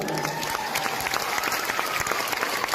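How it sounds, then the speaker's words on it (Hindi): Dense audience applause at a motivational event for RCM, a loud, continuous wash of clapping from a large crowd, steady from start to finish with no voices standing out. "जोरदार तालियां हो जाए एक बार"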